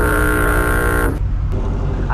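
A Ford Mustang's engine revs loudly up close as a paddle-shifted gear change cuts the tone abruptly partway through, leaving a lower, rougher drone.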